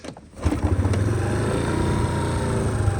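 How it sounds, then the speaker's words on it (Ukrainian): Suzuki Let's 4 fuel-injected scooter engine kick-started, a brief scuffle then the small engine catching and settling into a steady, close idle putter that runs on. "Можемо завести його з кікстартера."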